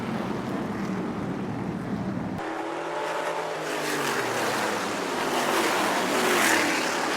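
Open modified race cars lap the tight Seekonk tri-oval bullring, a dense roar of engines swelling as the pack passes close, with pitch sweeping as they go by, over steady crowd and track ambience.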